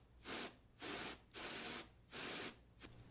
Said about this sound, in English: blowing from the inside out, very important, inside out, spray the fan.